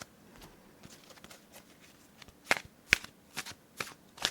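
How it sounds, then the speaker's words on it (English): Two decks of playing cards being shuffled at close range: soft papery riffling with several sharp card snaps near the end, no voices. "I do have kind of a hard time shuffling with 2 decks."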